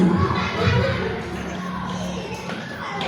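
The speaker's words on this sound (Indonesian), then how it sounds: "tepuk tangan buat Pak Usman" Brief burst of clapping and cheering from a school group in Indonesia applauding Pak Usman, a participant, mixed with shuffling and a few shouts, loud and close, with some voices in the crowd.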